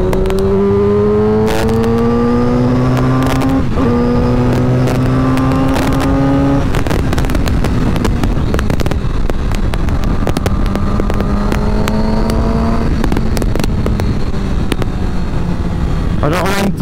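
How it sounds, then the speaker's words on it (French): A Yamaha R6 motorcycle revs hard toward high rpm, with rising engine tones and sharp exhaust pops and cracks scattered through, close and loud, while a rider's voice talks over parts of it. "Oh, le retour de flamme."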